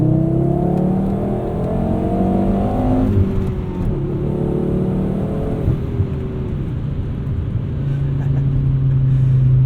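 A Volvo 850 R five-cylinder engine with a 5-speed manual revs up while driving, then the pitch falls away slowly as the revs hang after the throttle lifts, settling into a steady, loud, close cabin drone.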